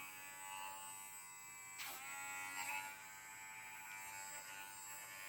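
A steady, high-pitched electric buzz from a pet nail grinder runs throughout, quiet and even, its pitch dipping briefly twice as it presses against a dog's nail.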